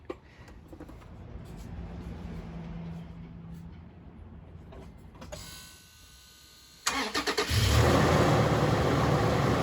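The 4-liter engine of a 2014 Toyota Tacoma with a new valve cover gasket cranks and catches after a stretch of quiet shop noise, then settles into a loud, close, steady idle.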